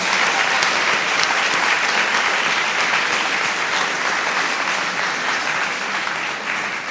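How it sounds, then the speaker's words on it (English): Sustained applause from an audience at a Black History Month celebration honoring a speaker, dense and steady clapping that stays loud throughout and tapers slightly near the end. "let's give Mr. Webb another hand of applause"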